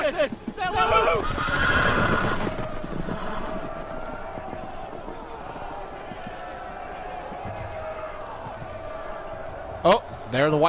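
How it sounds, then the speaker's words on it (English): Horses neigh and whinny in a scene from Telltale's Game of Thrones, a couple of loud whinnies near the start over muffled hoof and commotion noise, then a quieter stretch and a brief sharp sound near the end, with voices talking. "The horses! They're loose!"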